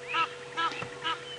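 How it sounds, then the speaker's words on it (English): Egyptian geese squabbling outdoors, giving three loud, harsh honking bursts spaced evenly over a steady background hum, fairly close. "the Egyptian geese are having a fight with each other"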